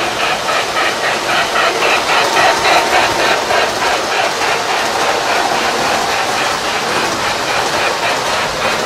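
A 1984 Lionel 783 Hudson model steam locomotive running, its electronic steam sound a steady, rhythmic chuffing hiss that pulses evenly and stays fairly loud throughout, with a faint mechanical hum beneath.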